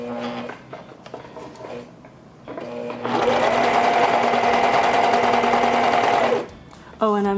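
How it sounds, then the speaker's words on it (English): A serger runs a 4-thread stitch along the side seams of a V-neck bodysuit, a steady loud mechanical whir lasting a few seconds, with talk before it and a brief voice after it stops. "Now I'm going to start sewing the side seams."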